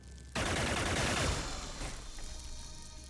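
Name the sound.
gunfire from the video game Xenonauts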